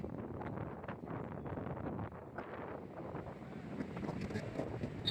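Wind buffets the microphone at a beach, a constant low rumble with faint wave wash beneath and no speech.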